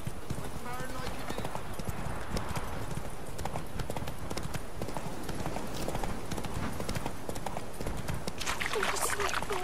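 Roach, Geralt's horse in The Witcher 3 on PS4, gallops with a steady, close clip-clop of hooves throughout, occasionally whinnying, while voices talk over the running hoofbeats.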